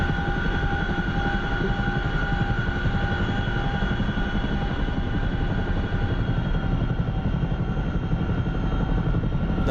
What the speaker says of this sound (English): That sound means that like you're almost starving the engine, so don't lower your collective too much.